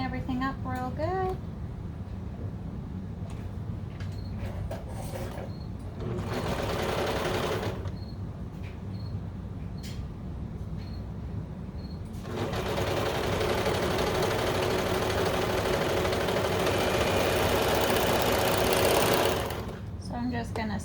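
A serger overlock machine trims and stitches along a fabric edge while sewing baby bummies, its fast whirring stitch running in several bursts of a few seconds each, broken by quieter pauses where a voice talks.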